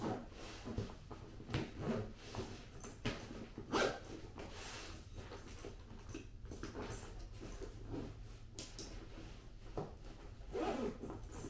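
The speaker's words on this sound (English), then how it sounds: "Zip this bad boy up now." A bag zipper being pulled closed on a personal-item travel bag, a series of close, quiet rasping zips and fabric rubs spread over several seconds, with soft handling noises between strokes.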